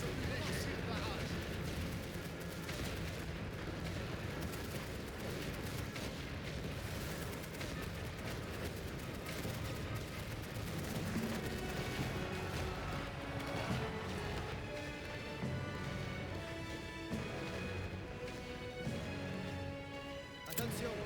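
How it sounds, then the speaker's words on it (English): Continuous artillery barrage in a World War One real-time strategy game, a dense rumbling wash of booms and gunfire layered under music and game sounds at steady loudness throughout. "Chargez les obus légers. Tir de barrage."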